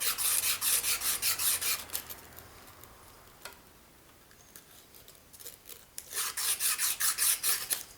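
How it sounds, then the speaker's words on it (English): A wheel is rubbed by hand with 400-grit wet-and-dry sandpaper, giving rhythmic rasping strokes in a quick back-and-forth series, then a quiet pause with a few scrapes, then another run of strokes. "So I just give it a little rub with a bit of wet and dry."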